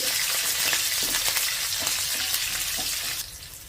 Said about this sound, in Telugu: ఈ పచ్చిమిర్చి ముక్కను కూడా జస్ట్ ఒకసారి అలా ఫ్రై చేసుకోవాలి